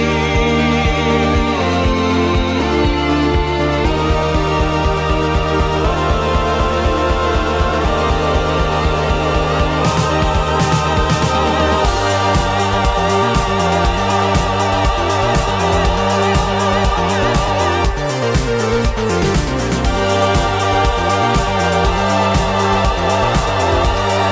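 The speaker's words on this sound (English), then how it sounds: "into kind of a nice like groovy dance part that sounds like this" Upbeat electronic dance music plays continuously, with a driving beat, layered synth chords and a bouncy bassline that shifts midway into a busier groove.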